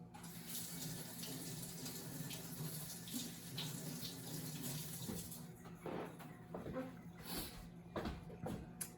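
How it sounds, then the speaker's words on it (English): Hot water runs from a tap in a kitchen during fudge making, a soft, steady splashing stream that continues throughout, with brief clatters and a faint voice in the background. "I'm going to put some hot water on here."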